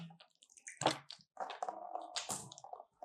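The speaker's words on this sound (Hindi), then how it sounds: "3 मरतबा आपने अपने हाथों को इस तरीके से धो लिया है।" Hands being washed and rubbed with water during wudu ablution, close wet squishing and sloshing in irregular bursts with drips and short gaps, fairly quiet and without talking.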